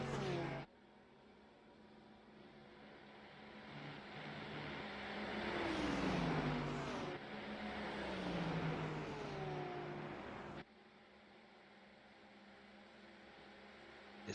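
Race cars lapping Spa in the iRacing sim heading down toward Eau Rouge, a faint engine whine that rises and falls in pitch as the cars accelerate and shift, heard steadily under quiet background hiss.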